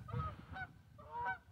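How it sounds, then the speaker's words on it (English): A couple of geese flying past during an outdoor walk give two or three short, nasal honks, faint and somewhat distant, with no talking. "A couple geese fly by"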